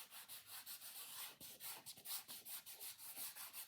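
Hands rubbing something together to spread it, a soft dry swishing friction repeated in quick, fairly even strokes, close but quiet, with no voices.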